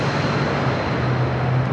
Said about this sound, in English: Moxie bringing in their Airbus A220-300.